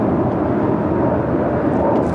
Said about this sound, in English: the Emirates A380 Super